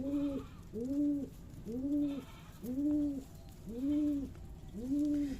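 Pigeons coo in a steady series of six soft, rolling calls, each rising and falling, fairly close with faint background noise, at a pigeon farm in Rajshahi.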